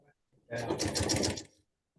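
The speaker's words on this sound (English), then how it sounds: "Now we're going to sew this part." A sewing machine stitches quilt fabric in one short burst of about a second, a close rapid whirring run that starts and stops abruptly between quiet gaps.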